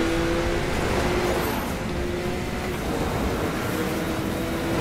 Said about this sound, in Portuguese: O ronco do carro é muito fiel ao da realidade